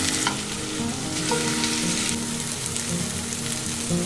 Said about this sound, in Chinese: 豆腐排下锅， 煎至两面金黄即可。